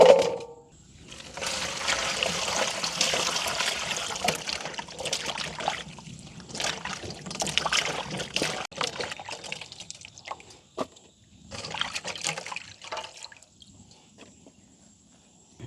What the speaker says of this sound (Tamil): நாங்கள் திரும்பவும் ஒருக்கா கழுவி எடுக்க போகிறோம்.